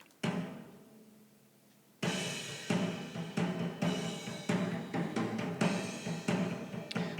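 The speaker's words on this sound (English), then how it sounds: "and the kit sounds like this." A single drum hit rings out and fades, then a full drum kit kicks in with a steady driving groove of kicks, snares and toms.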